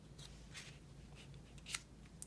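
Scissors cutting paper for a book-page pocket, a few quiet, close, crisp snips spaced irregularly over about two seconds.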